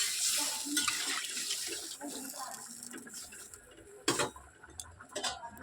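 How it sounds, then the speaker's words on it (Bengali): Water is poured into a pot of boiled potatoes for an egg curry in a home kitchen. The pour is a soft, splashy, fairly faint stream with light clinks and a few sharper knocks near the end. "দেখুন জল দিয়ে দিলাম, আমার সিদ্ধ করা আলু তো, ওটাও ডিমের ঝোলটা করবো বলে জলটা আমি দিলাম"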